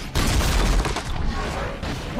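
Gunfire in the video game Horizon Zero Dawn as fighters shoot at an enemy's eye during a battle, a dense, loud barrage of shots and booms filling the short stretch, with shouting voices mixed in.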